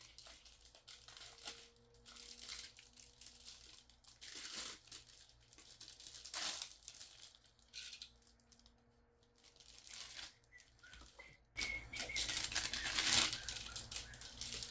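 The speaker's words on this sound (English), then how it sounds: "I'm going to take this off and cut it open." Plastic wrapping on a Warhammer model box being cut and peeled away, close crinkling and tearing in uneven bursts with quiet gaps, growing louder and denser toward the end, no talking.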